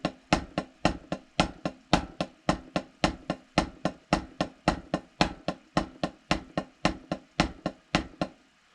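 A drum kit hi-hat played as a steady eighth-note pattern, with about thirty crisp, evenly spaced ticks over roughly eight seconds, close and dry, with no voices.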